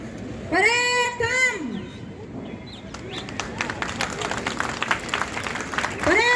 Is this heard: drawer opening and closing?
no